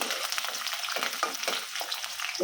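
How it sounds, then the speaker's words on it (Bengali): Chopped garlic frying in hot oil in a pan, a close crackling sizzle with quick bursts as it is stirred, no voices. "আমি এই রসুনটা একটু বাদামি কালার করে নেব"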